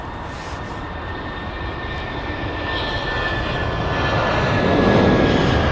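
An Air China Boeing 747-8i jet departs, its engine roar loud and steady and slowly building in strength, with a thin high whine running through it and no voices.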